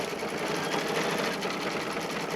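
An embroidery machine stitching a zippered pouch in the hoop, a steady rapid mechanical whirring and needle chatter at an even pace, close and continuous.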